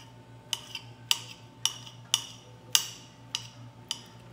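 Knife chopping prato cheese on a board: a series of seven sharp, evenly paced taps about half a second apart, fairly close and clear over a faint background hum.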